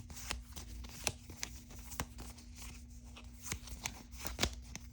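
Marvel Champions playing cards are shuffled by hand at close range, a series of quiet crisp riffles and snaps repeating irregularly over faint background hum.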